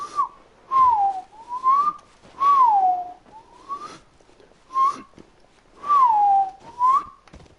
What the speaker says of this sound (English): Reverse whistling.